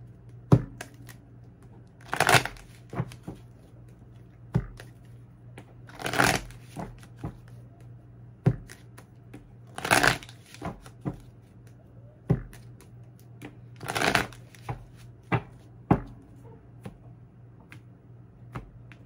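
Tarot cards are shuffled by hand in repeated bursts, loud riffling sweeps every few seconds with lighter clicks and taps between them, close and without talk.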